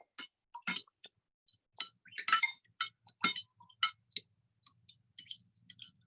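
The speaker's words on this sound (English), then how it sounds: "then I'm going to use my little teaspoons here just to stir it around till it's nice and dissolved" A small metal teaspoon stirs a liquid in a cup to dissolve it, giving a string of bright clinks and taps against the sides, irregular and close, quiet between strikes.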